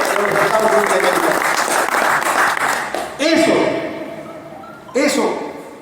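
Applause breaks out at a Spanish-language talk on geopolitics in Peru, hands clapping under a man's amplified speech, then tailing off as he keeps speaking.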